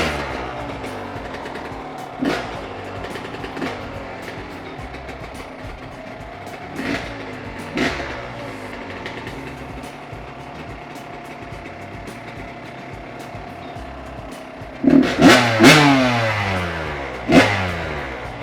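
A small engine with a freshly cleaned carburetor sputters through several start attempts, then catches and revs hard in loud bursts near the end.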